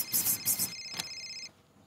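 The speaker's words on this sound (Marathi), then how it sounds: "मला फोन आला" A phone rings with a short electronic ringtone, a few bright repeated tones close by that cut off abruptly, leaving quiet room noise.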